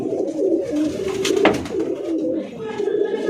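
Tournament racing pigeons coo close by in a loft, soft throaty warbling phrases repeating in a low rolling rhythm, with a brief sharp rustle or flap in the middle and quiet background noise.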